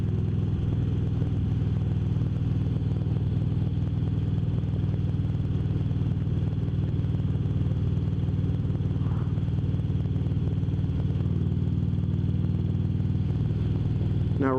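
Harley-Davidson Road Glide Ultra motorcycle cruising in fourth gear at about 45 mph, its engine a steady, loud low drone with wind rush throughout, no talk.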